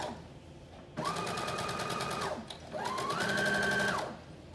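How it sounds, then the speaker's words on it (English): A sewing machine runs a loose, long basting stitch along the side hem of a flutter top, in two steady bursts of rapid stitching separated by a short pause, with no voices. "I'm doing a very loose, long stitch, like a basting stitch"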